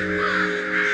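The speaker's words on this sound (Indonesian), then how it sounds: "mengajari gagak lain untuk berkoak dengan keras" Crows caw loudly in a harsh, continuous chorus, close and dense, with no voices.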